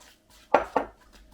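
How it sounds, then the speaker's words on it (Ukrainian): A fork mixing flour and water into pie dough in a bowl gives two quick metallic clinks close by, with near-silence around them. "І я борошно підливаю воду та замішую тісто спочатку вилкою."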